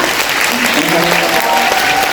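Dense, steady applause fills a film festival hall during a guest Q&A at the Bucheon International Fantastic Film Festival, loud and unbroken throughout, with faint voices underneath.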